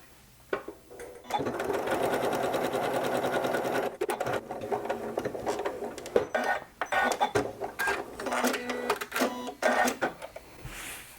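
A sewing machine stitches a quilt-as-you-go block in a steady whirring run, pausing briefly near the middle before continuing in shorter stop-start bursts, close and fairly loud.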